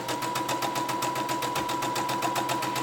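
A sewing machine runs a basting stitch along the raw edge of fabric for an apron ruffle, with a fast, steady rhythmic whir that stays close and continuous, with no talking.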